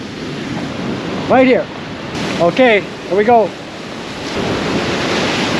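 Ocean surf washes steadily against the shore at South Point, the southernmost tip of Hawaii's Big Island, a constant broadband roar with wind noise, while someone speaks a few short phrases over it.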